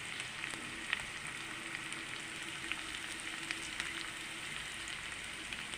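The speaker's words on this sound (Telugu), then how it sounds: "కొంచెం వేగనిద్దామండి ఉల్లిపాయ" Onion fries in a pan with a steady, close sizzle and crackle. Scattered small pops break through the sizzle, which runs alone without any talk.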